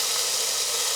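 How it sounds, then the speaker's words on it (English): A steady, bright sizzle of garlic frying in hot olive oil, close and continuous with no pauses. "the garlic has been sizzling for about 30 seconds"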